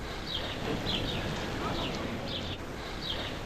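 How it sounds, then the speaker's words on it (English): Faint, high bird chirps repeat every second or so over a soft background hiss, distant and delicate. "just birds chirping."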